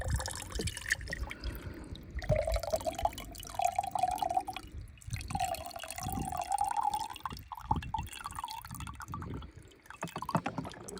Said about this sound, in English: I'm going to put some water in here.